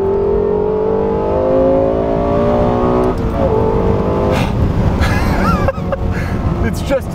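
Lexus LFA supercar engine while driving, a loud sustained rising drone with shifting pitch and brief shifts in tone, heard inside the car with someone talking over it.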